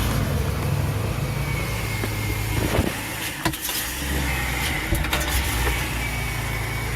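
The swapped engine in a 2008 Chevrolet Express van runs with a steady, full-bodied rumble, close and loud, with a few clicks and knocks partway through.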